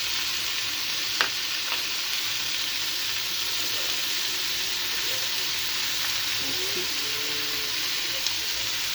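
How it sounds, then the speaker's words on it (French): Peas sizzle steadily in a hot pan, seasoned with spices, while a spoon stirs them with occasional clinks against the pan. "Versez les petits pois."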